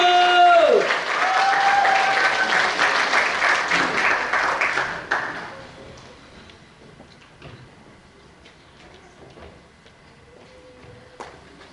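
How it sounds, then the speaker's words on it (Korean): Applause and cheering from a crowd at a certification ceremony in a national assembly hall, loud and sustained for about five seconds before dropping off into sparse scattered claps and room noise. "박수 한번 보내주세요. 소리 질러!"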